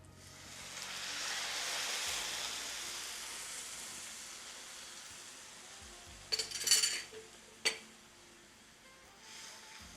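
Milk poured into a kadhai of roasted vermicelli and raisins makes a soft sizzling hiss that swells and fades, followed by a few sharp metallic clinks of a spoon against the pan.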